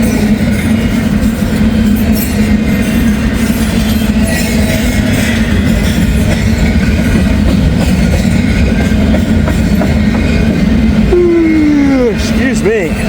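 A freight train led by two heritage-painted locomotives rolls past on the rails, a loud, continuous rumble and clatter close by, with a brief rising tonal squeal near the end.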